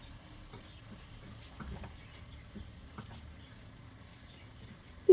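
Red peppers fry in a pan while being stirred, giving a faint, steady sizzle with soft scraping and scattered light taps of the spoon, ending in a sudden louder knock.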